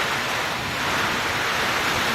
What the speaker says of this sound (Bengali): টিনের চালে শব্দ পাচ্ছেন বৃষ্টির